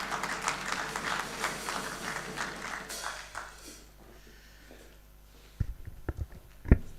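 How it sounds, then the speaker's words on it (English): A World Engineering Day audience of the Institution of Engineers of Kenya applauds a speaker walking to the podium. The clapping is fairly quiet, fades out after about three seconds, and is followed by near silence and a few sharp knocks. "A round of applause for him as he comes to the podium"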